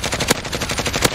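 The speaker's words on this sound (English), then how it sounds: "I'm taking hella fire" Gunfire in Warzone, a rapid automatic burst of close, loud shots in quick rhythm, with two sharper cracks standing out.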